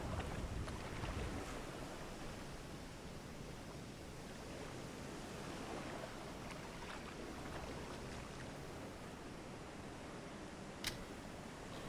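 U-boat engines churning the sea in the Silent Hunter 3 naval simulation, a steady washing roar of water and wind, broad and continuous, with a brief rumble at the start and a faint click near the end.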